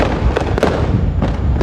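Dense, continuous crackling and popping of Diwali fireworks and firecrackers at a city crossroads in Roorkee, India, with a few heavier thumps standing out from the steady noisy barrage.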